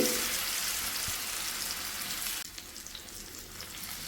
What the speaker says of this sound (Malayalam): നമുക്ക് പഴം ഒന്ന് നന്നായിട്ട് തന്നെ ഒന്ന് റോസ്റ്റ് ചെയ്തെടുക്കാം ഒന്ന് വഴറ്റിയെടുക്കും